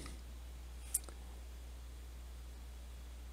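A single sharp mouse click on a Save button, quiet and isolated against faint background hum, with nothing else around it.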